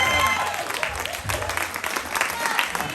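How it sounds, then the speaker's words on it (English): Crowd applause at a New Year's Eve stand-up comedy show in Pensacola, Florida, a steady patter of clapping filling the whole stretch with a few voices mixed faintly underneath. "I didn't get the same applause break in LA"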